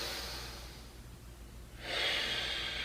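A deep, airy breath held through a standing yoga lunge, a soft sustained exhale fading out before a stronger, louder inhale-like rush swells up near the end, close and alone with no talk.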